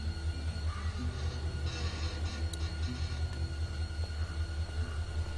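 A moving train in The Walking Dead video game gives a steady, close low rumble with rhythmic clacking and faint metallic squeals, continuous and without talk.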